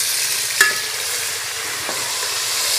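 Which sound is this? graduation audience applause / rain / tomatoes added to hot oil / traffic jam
tomatoes added to hot oil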